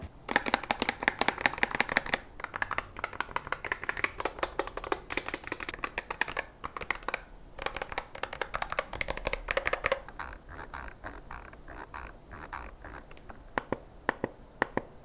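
Rapid, dense typing on an Ajazz AK650 mechanical keyboard with Flying Fish linear switches, a fast clattering stream of key presses that thins out into sparser, quieter strokes toward the end, with no voices.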